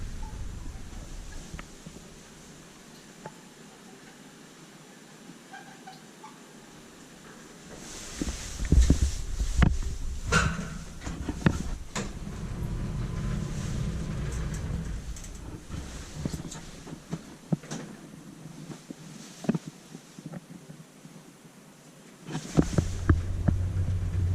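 A 1998 Kone Monospace traction elevator in a building in Lahti, Finland, running: low steady hum and throbbing drone that swells midway with clicks and knocks, then settles before a final louder burst.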